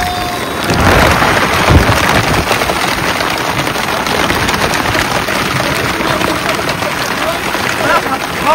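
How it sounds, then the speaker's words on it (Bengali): Heavy rain pouring down beside a river creek, a loud dense hiss of drops drumming steadily and close throughout, with occasional muffled knocks. "আর দেখি বৃষ্টি হচ্ছে প্রচুর।"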